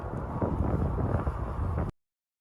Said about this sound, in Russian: Северный ветер в лицо, мерзнут кончики ног.